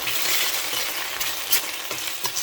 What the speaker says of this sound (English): And I'm going to stir this away.